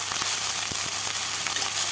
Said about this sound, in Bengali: দেখুন এইভাবে আমি ভাজতেই থাকবো।